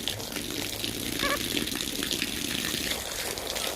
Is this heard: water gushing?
yes